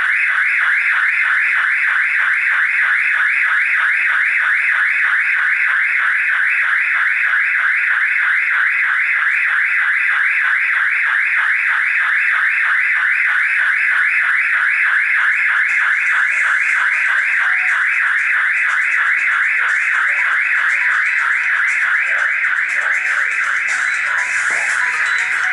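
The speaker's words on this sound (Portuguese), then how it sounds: "quando eu ligo o alarme, o sensor dispara" A homemade home alarm triggered by a motion sensor wails continuously for the whole stretch, a loud, rapidly warbling electronic tone that stays steady and close, alone without talk.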